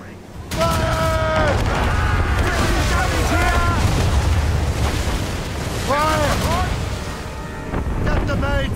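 Ship cannons firing in Assassin's Creed Rogue Remastered, heavy booming blasts and rumbling under shouted crew commands and wind, loud and continuous with bursts of voices throughout.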